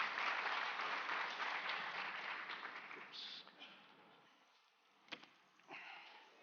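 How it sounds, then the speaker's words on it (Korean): Audience applause welcoming a former Danish ambassador to the stage at a Korean business forum, a dense sustained clapping that fades gradually over several seconds, leaving a few scattered claps and small thuds near the end. "박수로 좀 맞이해 주시기 바랍니다"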